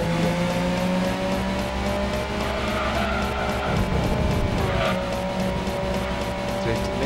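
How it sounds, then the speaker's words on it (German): A race car in Gran Turismo 2 spins and skids, its engine droning loudly and steadily while the tires squeal through the slide, with people talking over the game sound. "Dreht mega viel herum, das Fahrzeug."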